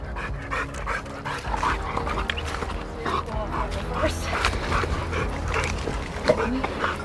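Hunting dogs released before dawn to track wild hogs pant, whimper and give short yips close by, with a steady, busy outdoor background.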